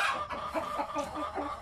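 Backyard chickens at a home cluck faintly in a quick series of short, soft calls.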